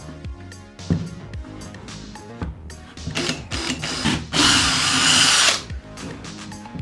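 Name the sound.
4mm electric drill drilling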